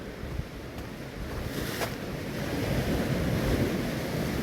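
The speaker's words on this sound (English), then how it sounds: "Just keeping an eye out to my left for the waves, just in case you get a biggie coming in" Sea waves breaking on the beach near Scarborough, a steady rushing surf roar with wind buffeting the microphone, building slightly louder toward the end, with no voices.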